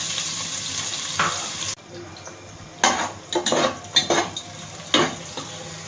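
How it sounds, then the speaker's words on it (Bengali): Onion and chopped garlic hit a hot wok already used for frying rohu fish, giving a steady sizzle with a sharp burst after the first seconds and several scraping stirs and clinks of the utensil. "মাছ ভেজে নেওয়া ওই একই কড়াইতে মাছগুলোকে ভুনানোর জন্য দিয়ে দিচ্ছি পেঁয়াজ আর কয়েক টুকরো রসুন কুচি।"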